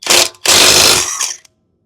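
A DeWalt-powered heavy-duty impact wrench hammers off a lug nut in two loud, close, rattling bursts, a short one followed by a longer one, then stops abruptly.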